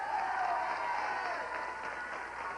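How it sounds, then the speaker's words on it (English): A studio audience on a hidden-camera television show gives a round of applause, a soft, steady wash of clapping with a faint murmur of crowd noise mixed in, heard at a distance. "Give him a round of applause."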